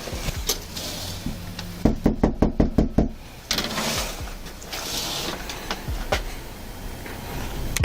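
Police officers pound on a front door at a house, a rapid run of about seven loud, sharp knocks close by, then quieter ambient noise.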